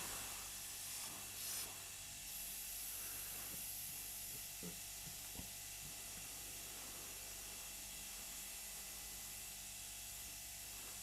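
Airbrush blowing plain air to dry a first coat of watercolour paint on a 1/32 Trumpeter English Electric Lightning scale model, a steady faint hiss running throughout with a few small clicks.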